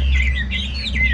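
A hwamei, the Chinese melodious laughingthrush, sings a steady run of bright warbling phrases, close and clear over a low constant hum.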